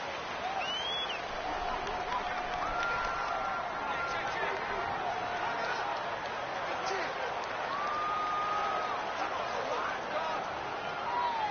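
A home stadium crowd at a Miami Dolphins football game against the Buffalo Bills roars in a steady, dense wash of noise throughout, with faint whistles and shouts rising above the constant din.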